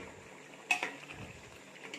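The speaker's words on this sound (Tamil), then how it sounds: "திறந்து மறுபடியும் லைட்டாக கிளறி விடலாம்." A utensil stirs mushroom biryani rice in a covered pot, giving faint, close clinks and scrapes with one sharper clatter of metal on metal, then quiet shuffling.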